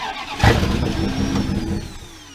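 An old carbureted V8 truck engine fires with a sudden low thump and then catches into a rough, rumbling run that holds steady before easing slightly, close and loud, with no voices.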